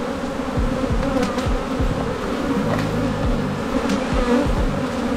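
Dense, steady buzzing of many honeybees around hives during California pollination, a continuous swarm drone with individual insects zipping past now and then.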